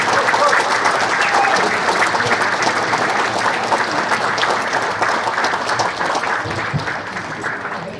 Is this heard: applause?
yes